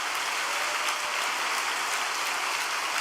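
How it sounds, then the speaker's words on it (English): An audience at a church gathering gives a steady, even round of applause, heard somewhat distant and softer. "why don't we give a big round of applause of encouragement?"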